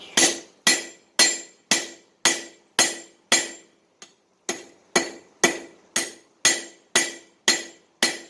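Steady, evenly spaced metallic hammer blows forging a steel chef knife blade ring out one after another, about two per second, with one lighter tap midway, close and alone.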